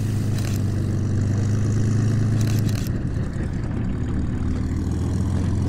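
A propeller aircraft's engine drones loud and steady close by, a continuous low rumble that shifts slightly in pitch partway through.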